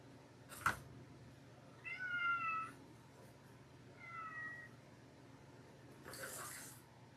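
An indoor house cat meows twice, a longer cry followed a couple of seconds later by a shorter one. Both are moderately clear over a quiet room, with a sharp click before them and a soft rustle near the end.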